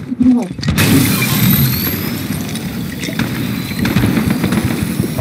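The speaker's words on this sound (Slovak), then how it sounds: "Aha, už vidím, kde strieľajú." Gunfire and explosions in the Fortnite video game crackle as a dense, continuous barrage of booms and shots, loud and steady under a voice speaking.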